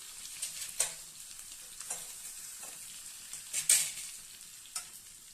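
Black pepper, cumin, grated ginger and a green chili fry in hot oil in a pan for millet pongal, giving a steady soft sizzle with a few sharp spatter pops and stirring scrapes.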